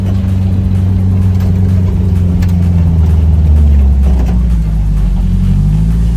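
A drift-spec Nissan Silvia's engine revs hard nearby, its loud droning pitch climbing and falling as the throttle is worked, with no voices.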